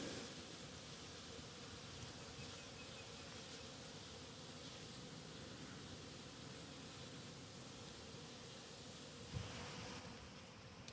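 Steady, dense buzzing of many honey bees in a hive during a midwinter check, continuous and close, with a faint hum throughout and no voices.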